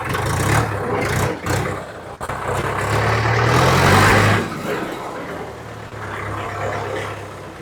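A John Deere 5103 tractor engine runs loud and close, its diesel rumble rising and falling with throttle changes and a brief dip partway through, while voices sound faintly underneath.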